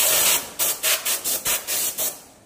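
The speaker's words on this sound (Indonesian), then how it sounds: "Sebelum membuka oil cap, dipastikan terlebih dahulu disemprot" Cleaner sprayed around a motorcycle oil cap during a tune-up: a series of about eight short, sharp aerosol hisses in a steady rhythm, loud and close, with no talking.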